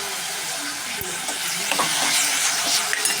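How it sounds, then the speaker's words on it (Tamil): Onions and tomatoes fry in a pan for a peanut curry, giving a steady, loud sizzle with faint stirring scrapes throughout. "இந்த ஸ்டேஜில் வந்து நம்ம தக்காளியை சேர்த்துடலாம்"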